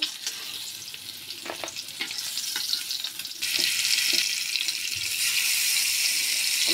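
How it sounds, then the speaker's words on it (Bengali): Tilapia pieces fry in hot oil with a steady, bright sizzle and occasional pops and crackles. The sizzle swells louder partway through, and nobody speaks. "বাকি মাছগুলো ভেজে নেব।"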